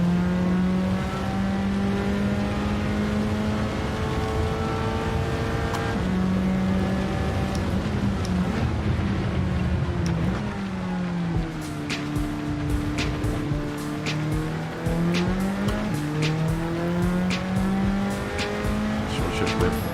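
Jaguar F-Type in Gran Turismo 7 racing with a steady, loud engine drone that rises and falls through gear shifts, with bursts of tire squeal, under occasional talk.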